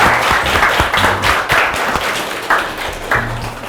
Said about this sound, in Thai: ขอเสียงปรบมือให้กับเพื่อนด้วยนะคะ